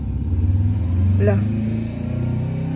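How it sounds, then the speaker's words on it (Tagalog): A motorcycle passes outside as a mid-pitched engine drone that swells and fades, with a brief brighter whine in the middle, while people talk indoors over it. "May motor sa labas."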